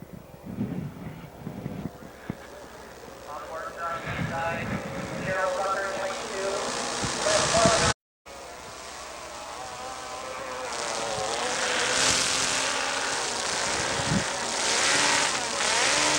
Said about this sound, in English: a lot of the engines are firing up for the next one